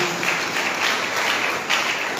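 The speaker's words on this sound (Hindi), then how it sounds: "ताली बजा के परमेश्वर को महिमा देंगे" Congregation clapping during a Sunday church service, a steady sustained wash of many hands applauding with slight swells in intensity, loud and close throughout with no talking.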